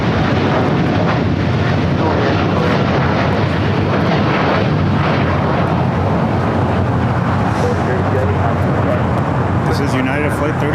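A United airliner bound for Tokyo Narita moves at LAX, a loud, constant jet engine roar running the full length with no pauses.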